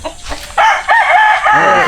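A rooster crows loudly and close by, one long strained call rising and then trailing off.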